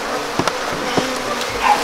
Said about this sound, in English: These bees are up in my face. They're just a Welsh black bee.